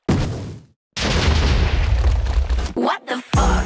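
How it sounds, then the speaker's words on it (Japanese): A launcher shot in Minecraft explodes in a farm field with a loud boom, followed by a brief silence, a sustained rumbling blast and a few sharp bursts at the end. "祝砲として畑に一発打ち込みます"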